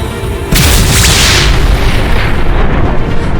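War scene in the rain: a heavy boom bursts in after a half-second of rumble, then a dense, sustained roar of artillery-like blasts and crackling fire carries on loud and close, with no voices.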